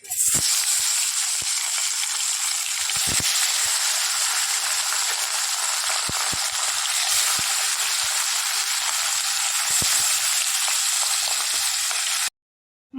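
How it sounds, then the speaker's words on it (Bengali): Fish dropped into hot oil and frying, a loud continuous hissing sizzle with scattered crackles and pops that runs steadily and then cuts off abruptly just before the end. "তেল গরম হয়ে গেছে মাছগুলো দিয়ে দিই"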